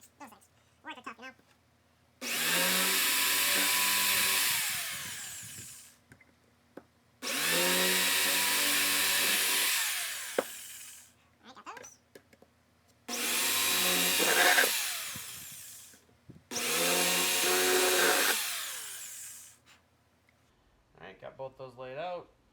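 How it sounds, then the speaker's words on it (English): Four long bursts of a power drill whirring steadily, each several seconds, drilling rivet holes in shoulder armor pieces, separated by short pauses with faint handling noises. "Time to drill them."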